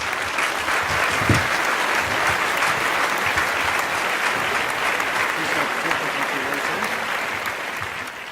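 Loud, sustained audience applause at a media awards ceremony for a CNN winner, dense clapping that fills the room and tapers slightly toward the end, with some indistinct voices mixed in.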